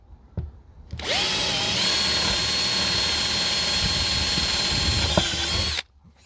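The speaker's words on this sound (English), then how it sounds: "Just drill a hole here." A power drill bores a starter hole for a jigsaw during a 2015 Citroen C4 Picasso car conversion, one loud, steady high whine lasting about five seconds before it cuts off abruptly, with faint handling noises before it.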